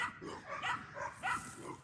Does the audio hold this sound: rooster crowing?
no